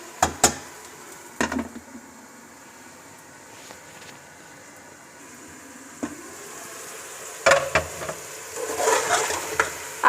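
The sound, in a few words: beef karahi cooking and sizzling in a covered pan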